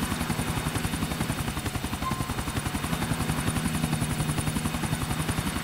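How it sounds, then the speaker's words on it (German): A helicopter in the video game GTA IV gives off a continuous, even rotor chop with a high whine above it, loud and steady throughout, with no voices. "Um den Helikopter ruhig zu halten."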